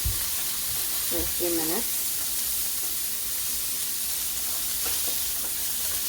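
Food sautés in a pan for beef burgers and slaw, a steady close sizzle and hiss running throughout, with someone briefly speaking over it.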